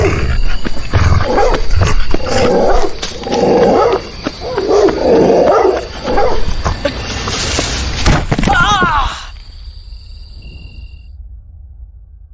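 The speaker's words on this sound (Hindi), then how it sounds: "अंधेरी रात, घना जंगल और जंगल में जंगली कुत्तों के झुंड से बचकर भागता हुआ" A pack of wild dogs in a dark forest at night snarls, growls and barks together, loud and close, in a chaotic overlapping burst. The noise cuts off sharply into near silence near the end.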